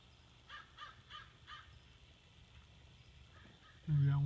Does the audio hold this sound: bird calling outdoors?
yes